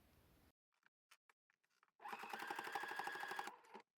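A sewing machine top-stitches a jeans waistband: a few faint taps, then a close, steady burst of rapid stitching for about a second and a half before it stops.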